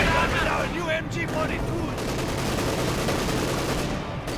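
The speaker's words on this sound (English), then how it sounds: "Grenadiers with a light machine gun. They're simply just shredding the Guardsmen." Light machine gun fire from Grenadiers in the World War II strategy game Company of Heroes 2, a dense sustained rattle of automatic bursts over a battle din, with a commentator's voice audible early on.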